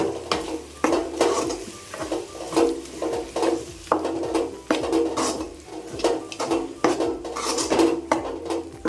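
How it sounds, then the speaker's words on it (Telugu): Ground masala paste with curry leaves being stirred in a cooking pot for a fish curry, with repeated clattering spoon scrapes against the metal pot over a faint sizzle. "దీన్ని మంచిగా కలుపుకోవాలండి."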